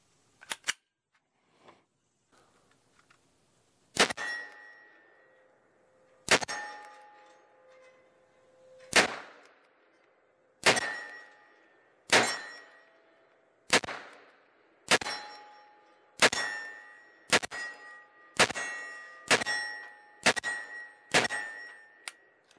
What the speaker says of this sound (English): But let's finish off this mag right here on that same 20-yard round gong.